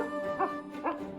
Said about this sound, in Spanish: Es un perro.